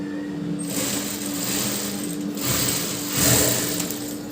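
A sewing machine stitches the shoulder seams of a T-shirt made from a converted chudidar, a steady close mechanical whir and rattle running throughout with slight swells in speed, no voices over it.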